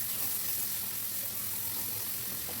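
Eggplant curry mixture for Hyderabadi baingan added to hot oil in a pan, giving a steady, even sizzle and hiss that runs the whole time with no talking.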